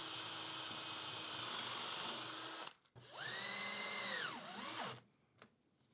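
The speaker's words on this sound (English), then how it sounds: "To make sure you drill the holes in the right places" A power drill boring screw holes in wood for a foldable coffee table, a loud steady whine that cuts out, then spins up and winds down again in a rising and falling pitch.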